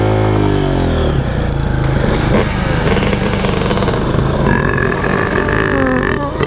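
A human voice imitates a revving dirt bike engine, a loud, continuous buzzing drone with rising and falling pitch sweeps, up close and alone.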